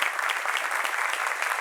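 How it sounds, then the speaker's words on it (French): Studio audience on a talk show applauding, a continuous bright wash of clapping that holds steady and fairly close from start to end. "On les applaudit très fort."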